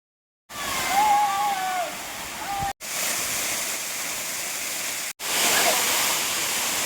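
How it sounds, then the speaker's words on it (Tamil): Chinna Suruli waterfall in Theni district pours in a steady, loud rush of falling water, continuous and close, broken by two brief cuts, with faint birdsong over it at the start. "இன்னைக்கு நாம தேனி மாவட்டத்தில் இருக்க சின்ன சுருளி அருவிக்கு தான் போக போகிறோம்."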